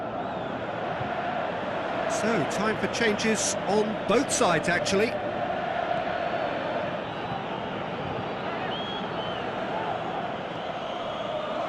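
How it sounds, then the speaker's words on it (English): Stadium crowd noise from the Pro Evolution Soccer 2018 football video game rumbles steadily in the background, swelling briefly, while a commentator speaks over it. "you can feel and hear how the crowd are reacting to all of this"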